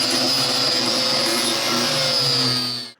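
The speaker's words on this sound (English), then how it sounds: "I'm gonna go ahead and take the grinder to all that" An angle grinder cleaning up metal whines loudly and steadily at close range for about three seconds before cutting off abruptly at the end.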